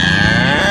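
A cow gives a single loud, close moo, a brief deep bellow that fills the whole moment.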